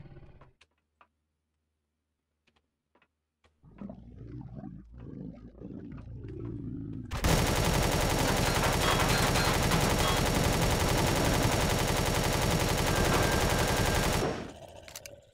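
Gunfire in Empyrion Galactic Survival breaks out as a loud, continuous barrage of automatic shots lasting several seconds. Scattered quieter clatter comes before it and it cuts off abruptly at the end.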